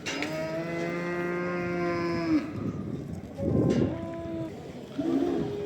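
A water buffalo at the Ganja livestock market gives a long, loud lowing call, then two shorter calls, with quiet market background and no talk.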